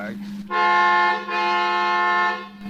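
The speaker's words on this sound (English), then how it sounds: "What are you honking now for?" A car horn from a radio drama sounds as two long sustained honks close up, with a short gap between them and no talking over them.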